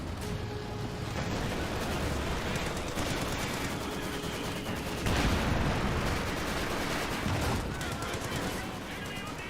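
Machine gun and mortar fire in the video game Company of Heroes 2, a dense, continuous barrage of rapid gunshots and heavier thumps with no pauses, loudest around the middle.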